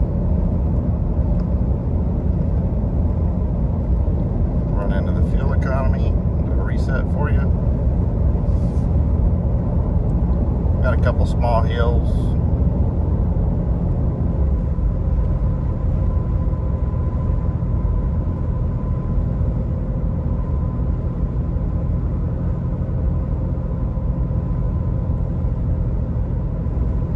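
A 2019 Ram 2500 pickup with air suspension cruises at quarter throttle, a loud, constant low rumble and road drone that holds steady throughout with a few faint higher rattles early on.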